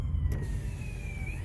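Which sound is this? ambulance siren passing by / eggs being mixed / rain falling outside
ambulance siren passing by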